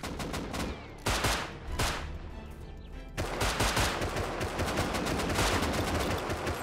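Automatic AK rifle gunfire in the survival game Rust crackles in loud, rapid bursts, with brief gaps early on and then nearly continuous shooting until the end.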